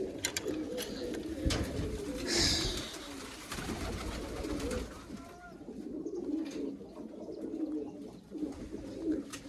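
Pigeons coo softly and repeatedly nearby over a steady outdoor background, with occasional faint chirps and rustling.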